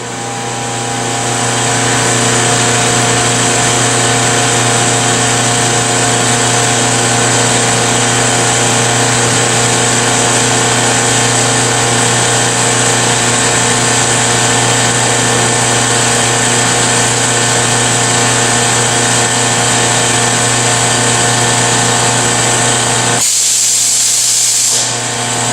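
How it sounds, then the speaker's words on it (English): Vacuum pumps hum and hiss steadily while pumping down an e-beam evaporation chamber, a loud constant drone with tonal bands that holds unbroken until a sudden shift near the end. "you can see the chambers getting pumped down"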